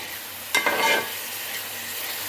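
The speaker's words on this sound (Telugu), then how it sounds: "కొంచెం మగ్గనిద్దామండి ఇది ఉల్లిపాయ మగ్గాలన్నమాట" Onions sauté in a pan for a fish curry, giving a short, sharp burst of sizzling and stirring that lasts about half a second and then settles back to a quiet background hiss.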